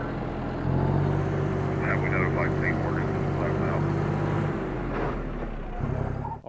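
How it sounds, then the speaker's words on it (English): A tractor engine idles and runs steadily nearby as a low, continuous droning hum, with its tone shifting partway through, while a person speaks briefly over it. "All right, tractor on."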